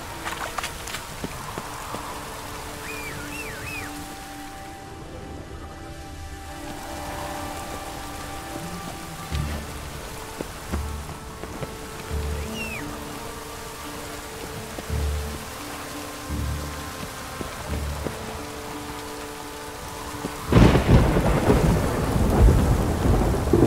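Steady rain and rolling thunder in The Witcher 3: Wild Hunt, a continuous wash of rainfall with low rumbles throughout and a louder, nearer thunderclap building toward the end.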